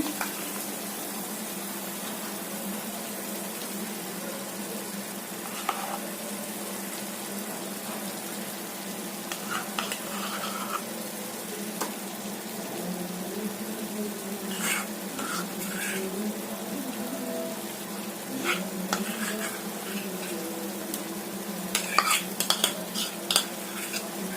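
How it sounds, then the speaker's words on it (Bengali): Cashew and poppy seed paste frying and being stirred into oil-separated tomato puree, a steady low sizzle with occasional scrapes and clinks of a spatula against the pan, no voices. "এবার আমি কাজু বাটাটাকে ভালো করে কষতে শুরু করব।"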